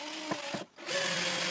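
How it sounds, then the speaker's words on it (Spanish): A power screwdriver drives a screw into plywood to lock hexagonal bolt heads in place, with two short buzzing bursts, a brief pause, then a steady whirring run, close and alone. "Encajo la cabeza hexagonal en los agujeros y las bloqueo con un tornillo"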